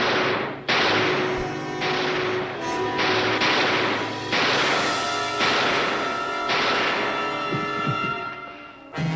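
Gunfire in a TV drama rings out in a string of loud, sharp shots, each followed by a trailing echo. They come irregularly, about a second apart, with no talk between them.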